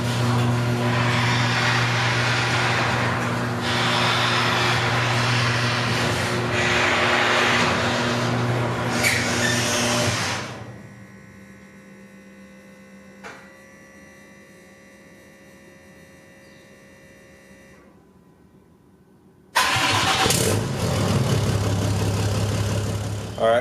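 A Ram 2500 pickup truck's engine hums steadily as it warms up for about ten seconds, then drops to a quiet lull before the engine noise returns loud and close.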